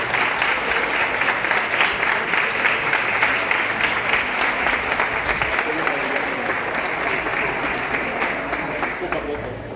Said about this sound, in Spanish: para quien yo pido que menos que un inmenso aplauso